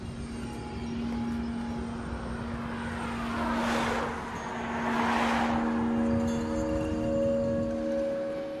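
An airplane passes overhead, its engine roar swelling and fading with a steady drone beneath, moderately distant and unaccompanied by speech.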